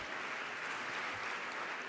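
An audience at a youth health conference session breaks into applause, a dense, even wash of clapping from many hands, moderately distant and sustained without any voices over it.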